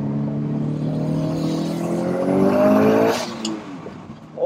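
A Subaru Impreza STI hatch, JDM, with a 2.1 stroker engine making 420 BHP, accelerates hard from inside, its engine note climbing steadily and loud before easing off abruptly, with a brief burst at the end.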